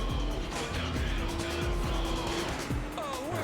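A race car on tractor tires drives a track in a video game, its engine whining steadily with pitch sweeps and tire squeal, loud and continuous under faint background chatter.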